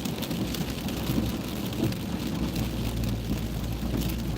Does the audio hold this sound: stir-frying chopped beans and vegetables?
no